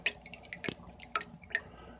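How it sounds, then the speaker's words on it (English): Fresh water squirted from a syringe to rinse copepod pods in a net, heard as faint, scattered drips and small splashes in a quiet room. "Take a syringe full of clean, fresh water. And I go like that to rinse them off,"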